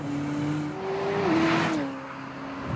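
A McLaren Senna's engine and gearbox drone loud and close, pitch rising steadily, dipping briefly at a shift, then settling into a steady tone under cabin noise.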